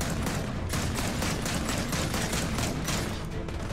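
Sustained rapid gunfire in the video game Gears of War 4, a dense, continuous fusillade of shots firing in a steady rhythm, loud and close throughout.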